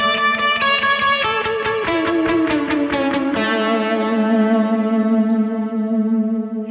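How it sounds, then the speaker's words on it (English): Electric guitar run through an Eventide reverb effect in a worship tone: a quick series of bright picked notes, then a sustained chord swelling into long, shimmering reverb trails that ring out alone. "That's all coming from Eventide here,"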